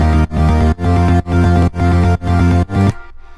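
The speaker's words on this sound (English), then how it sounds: "And then the arp sounds like this." Square-wave synth arpeggio with distortion, delay and reverb from a progressive house remake, playing steady rhythmic chord pulses that stop abruptly into a short reverb tail, loud and alone.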